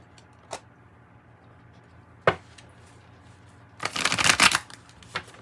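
A tarot card deck shuffled close by, heard as a loud, dense riffle lasting about a second after a couple of isolated card taps, set against a low steady background hum.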